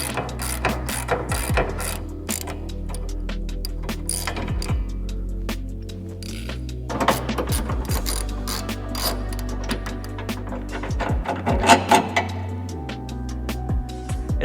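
A socket wrench ratchets on 15mm bolts holding the toe arm of a 2022 or 2023 Ford Maverick, making close, loud bursts of rapid clicking in repeated strokes with brief pauses and no talking.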